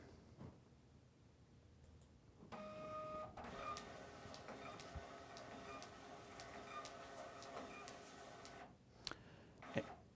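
T6000e RFID printer printing and encoding a run of five labels, a faint mechanical whir with regular ticking clicks that starts, runs for several seconds and stops, followed by a couple of sharp clicks.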